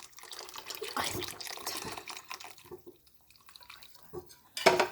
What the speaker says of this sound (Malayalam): അവിലയിലേക്ക് നമ്മൾ ശർക്കരപ്പാനി ഒഴിക്കുകയാണ്.